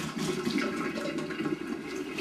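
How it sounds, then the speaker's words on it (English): Steaming hot water from boiled noodles pouring out of a pot into a drain, a steady continuous rushing splash close by with no talking. "Now I'm gonna drain the noodles."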